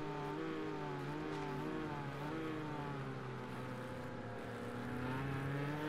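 A race car engine in the Project Cars 2 racing game holds a loud, steady drone that rises and falls slightly in pitch as it accelerates out of a corner, with no other sound.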